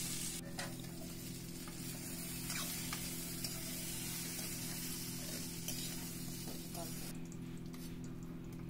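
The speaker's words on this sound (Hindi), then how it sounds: "हमने थोड़ा सा ऑयल लिया, उसमें अदरक लहसुन का पेस्ट डाला है।" Ginger garlic paste sizzling in a little frying oil in a kadai, a steady close crackling hiss with a low hum underneath and occasional stirring scrapes.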